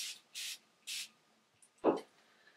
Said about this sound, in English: So I'm just gonna spray my brush.